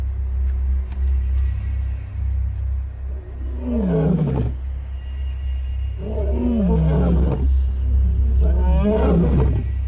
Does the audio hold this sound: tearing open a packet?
no